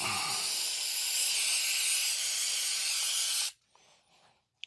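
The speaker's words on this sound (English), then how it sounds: "I need to spray the top of this thing out too with some brake cleaner." A steady, loud hiss of a can of brake cleaner spraying onto a Honda Recon cylinder head for several seconds, then cutting off abruptly, followed by faint handling noises.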